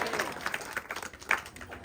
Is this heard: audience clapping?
yes